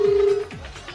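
A telephone sounds briefly with a steady electronic tone, then fades, loud and close with no voices.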